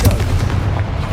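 A Confringo explosive spell blast in Hogwarts Legacy lands as a single heavy, booming burst that rumbles deep and loud, filling the moment with no talk over it.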